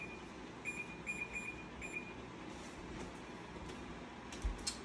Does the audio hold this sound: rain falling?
no